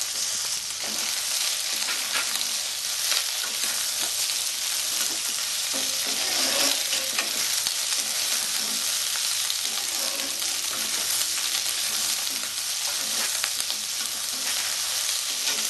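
Thick-cut onions and green chillies fry in a pan with a loud, dense, continuous sizzle heard up close, with faint stirring underneath.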